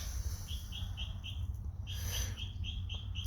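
A small bird repeats a short, high, evenly spaced chirp in two runs, fairly near, over a constant low background hum.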